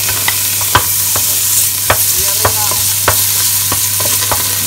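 Garlic fries in hot oil in a pan with a bright, steady sizzle, broken by repeated sharp scrapes and taps of a utensil stirring at uneven intervals, close and loud with no talking.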